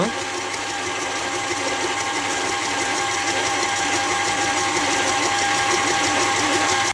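An electric mixer beats cookie dough at medium speed, a steady, dense whirring buzz with a fine rhythmic flutter that runs continuously and close.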